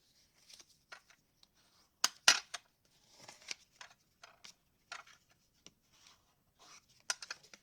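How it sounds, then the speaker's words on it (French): Paper is folded by hand into small pleats for a handmade card, giving sparse, quiet crinkles, creases and taps in irregular short bursts, with a few sharper snaps and stretches of near silence between them. "Donc je continue mes petits plis."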